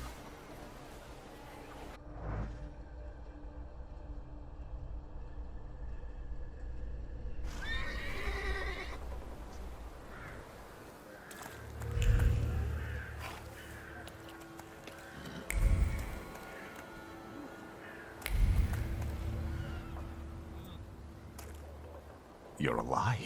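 In The Thaumaturge on PS5, a game horse whinnies and snorts, with hoof clip-clops and rising bursts of movement that repeat several times over a low ambient music bed.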